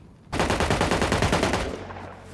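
Rapid automatic gunfire in the mobile survival game Rust Mobile, a loud sustained burst of evenly spaced shots lasting over a second before cutting off, with no talk.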